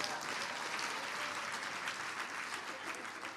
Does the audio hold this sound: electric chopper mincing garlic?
no